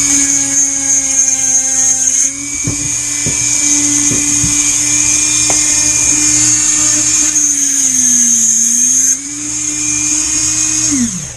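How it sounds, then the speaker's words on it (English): A Dremel rotary tool cuts through sharp metal ties during a Jersey Skiff kit boat build, a loud steady high whine held for about eleven seconds, with its pitch dipping briefly as the cutting wheel bites and a few clicks partway through. "Then I cut these off with a Dremel."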